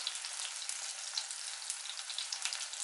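Ginger and garlic fry in a pan, a steady close bright sizzle with small crackles, even and unbroken, no voices.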